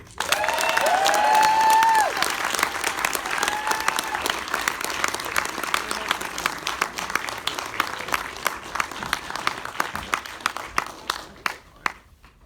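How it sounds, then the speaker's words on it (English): A Q&A audience breaks into loud, sustained applause welcoming Doug Bradley for a Hellraiser II event. A dense crowd of clapping hands carries with a faint cheer early on, then thins and fades out near the end. "big round of applause, Doug Bradley"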